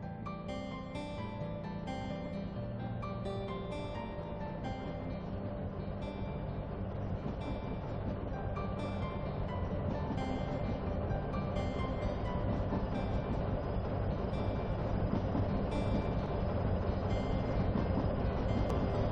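A passenger train rolls along at Seven Oaks, its steady wheel rumble and rail clatter continuing loud and close for the whole stretch, growing slightly louder toward the end, with no voices.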